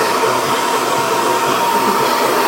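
A hair dryer blows steadily with a loud, even whoosh and a constant motor hum, unchanging throughout, with no other sounds.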